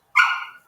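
A puppy lets out a single short, high yip-like bark, close and fairly loud, fading out within half a second.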